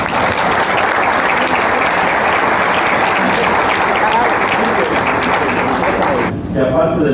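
A dense, steady wave of audience applause fills a book presentation hall in Xalapa, loud and sustained for several seconds before cutting off, with a voice starting to speak at the very end.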